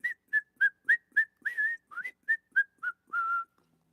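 A person whistles a quick run of about a dozen short, clear notes, each clipped off, with the final one held a little longer; close, alone and without talk.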